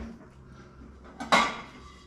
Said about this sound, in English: Get ourselves another plate out.